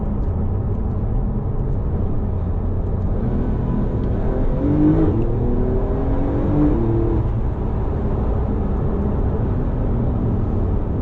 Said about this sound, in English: Just listen to the soundtrack, the engine, this exhaust makes.